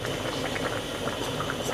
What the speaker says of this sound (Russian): И ждем, пока у нас вода будет потихоньку выкипать.